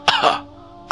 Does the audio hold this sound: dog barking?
no